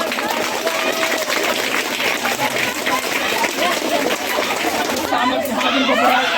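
Congregation clapping together at a prayer service, a steady dense patter of many hands mixed with crowd chatter and voices throughout.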